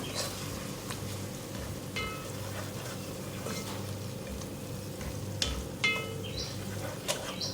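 Fennel and coriander seeds dry-roast in a pan, a soft continuous sizzle with occasional scraping and stirring clinks, close and quiet, with no talk.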